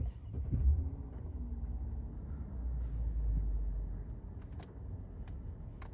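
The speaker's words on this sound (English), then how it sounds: "It's beautiful. The engine is so smooth." A 2020 Genesis G90 with a 5.0 GDi V8 engine starts and settles into a smooth, quiet idle, heard as a faint low rumble that swells briefly and then holds steady.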